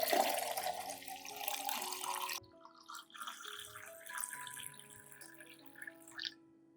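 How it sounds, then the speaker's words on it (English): Clean water poured into a container to dilute a homemade plant nutrient solution, a steady close splash for a couple of seconds that cuts off, followed by softer trickles and drips. "Add 1 liter of clean water to dilute the solution."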